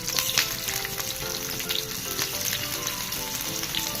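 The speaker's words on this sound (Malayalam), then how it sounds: "ഞാൻ വെളിച്ചെണ്ണയിലാണ് കേട്ടോ ഫ്രൈ ചെയ്യുന്നത്." Pearl spot fish sizzles and fries in coconut oil with curry leaves, a steady close crackle with bright pops, continuous and fairly loud, with no talking.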